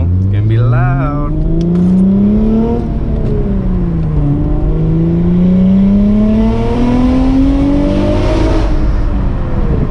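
An Acura TL with a busted flex pipe revving hard in gear then letting off, loud rising and falling exhaust drone and whine close by, with a voice speaking over part of it.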